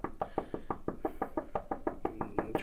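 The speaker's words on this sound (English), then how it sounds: "And here we are knocking again." A door is knocked on in a steady series of about twelve firm raps, evenly spaced and fairly close, with no voices over them.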